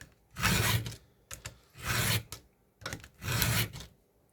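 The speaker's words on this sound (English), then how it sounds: "you can sharpen the tooth and the raker together" A sharpening tool files a chainsaw tooth and its raker together, three loud, close rasping strokes in an even rhythm with short quiet gaps between them.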